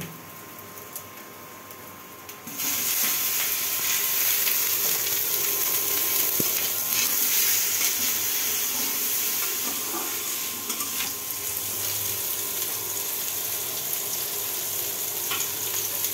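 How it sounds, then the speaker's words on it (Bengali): Onion and green chili frying in an oil-filled pan as vegetables are added, the quiet pan suddenly bursting into a loud, continuous sizzle that holds steady at close range, with no voices. "পেঁয়াজ এবং কাঁচামরিচ ভাজা হয়ে গেছে, এখন সবজিগুলো দিয়ে দিব।"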